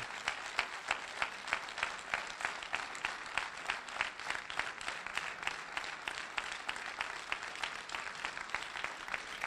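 Sustained applause from a lecture audience, dense and steady for the whole stretch, with no voices standing out above the clapping.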